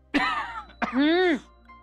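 Two close, voiced coughs, the second longer and throatier, followed by quiet.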